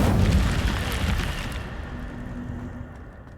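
The Incendio fire spell from Hogwarts Legacy bursts with a loud, close whoosh and rumbling blast that decays over a few seconds into a crackling tail, no voices.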